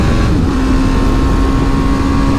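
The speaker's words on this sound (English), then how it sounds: "we'll do a quick to 60. That's throttle to the stop." A BMW G310 GS motorcycle accelerating hard at full throttle, its engine droning loud and steady at close range with a rising tone and no talk.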